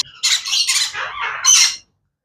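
Sun conure parrots of a super red factor variety let out a burst of loud, harsh squawks, several rasping calls in quick succession lasting under two seconds, close up, then silence.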